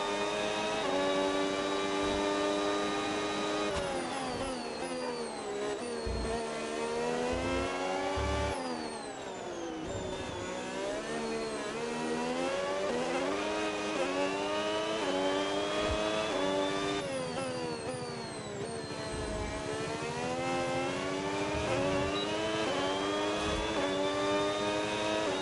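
Formula 1 race car engine from a video game, racing at Singapore's Marina Bay circuit, screaming loud and steady as it climbs through the gears, with pitch sweeps and brief dips at each shift, no voices.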